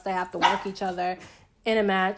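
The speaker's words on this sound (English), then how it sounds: "Sorry about my dog barking in the background." A pet dog barks and yips in the background of an indoor room, its sharp bursts mixed under a person talking steadily in the foreground.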